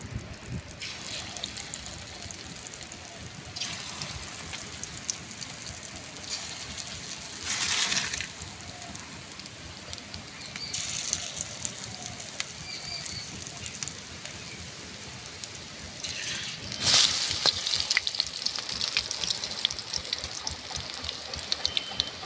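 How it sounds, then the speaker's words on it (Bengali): Onion fritters (piyaji) frying in hot oil, a steady close crackling sizzle throughout with a few louder splashy surges as pieces go in or are moved. "বাদ বাকি পেঁয়াজিগুলো ভেজে নেবো"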